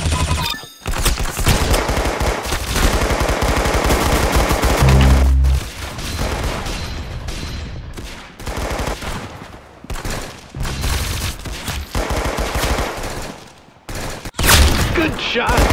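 Rapid gunfire from the Roblox game Arsenal, loud bursts of automatic shots and single cracks repeating throughout, with brief pauses and a heavy boom near the middle, mixed with game effects.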